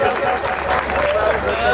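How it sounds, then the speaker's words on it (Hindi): An audience at a Hindi poetry stage show applauds steadily, a dense wash of clapping that stays loud throughout. "एक बार जोरदार तालियां बजाइए, जोरदार तालियां।"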